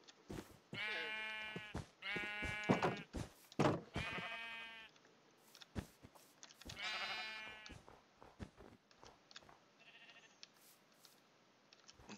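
Sheep in the video game Minecraft bleat repeatedly, a cluster of close, wavering calls followed by a lone one and fainter ones, with soft clicks in between and little other sound.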